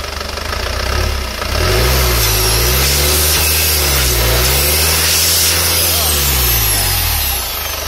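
A 2009 Isuzu Panther GT turbo diesel engine sits under close, loud, steady revving that swells and dips twice as the throttle is worked, with a drone of turbo whine and workshop noise behind it.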